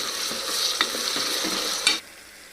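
Onions and fresh mint stirred in a hot pan for mutton boti curry, a steady close sizzle with a few sharp scrapes of the spoon, stopping abruptly near the end.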